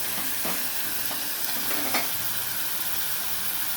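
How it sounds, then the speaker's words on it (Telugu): Tomatoes hit frying onions in a pan for a flat-bean and tomato curry, giving a steady, loud sizzle and hiss throughout, with a few scraping stirs of a spoon against the pan. "ఉల్లిపాయలు వేగాక టమాటాలు వేసేస్తున్నాం అండి"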